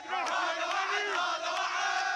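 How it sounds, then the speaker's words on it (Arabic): Iraqi protesters in Najaf loudly chanting in unison against Iranian influence, a dense crowd of raised voices with rhythmic swells, continuous and close throughout. "هتافات تتعالى رفضاً للنفوذ الإيراني"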